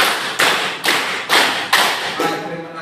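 A class claps together in a counted pattern, five crisp unison claps at a steady, even pace, each with a short room echo, fairly close and without talk over them.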